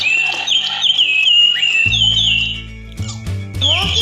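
A toy canary with a moving tail chirps in bright, rapid electronic tweets and whistles, while a low steady hum joins partway through and a voice speaks nearby.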